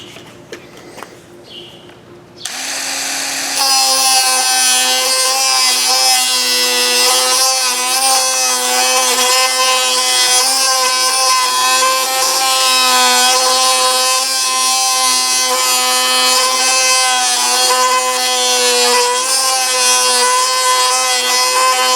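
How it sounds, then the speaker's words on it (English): A Dremel rotary tool cuts a slot into a stuck screw while working on a C3 Corvette's T-top. After a couple of quiet seconds it starts with a loud, steady, high-pitched whine that runs close and unbroken to the end, with no talk. "I'll have to get the Dremel and cut a slot in that for maybe a straight screwdriver"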